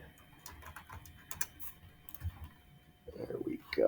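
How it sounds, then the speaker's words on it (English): Keys tapped on a computer keyboard while entering functions into Desmos: quiet, irregular clicks scattered across the clip, getting louder and denser toward the end, with no talking. "I'm going to type all these functions in."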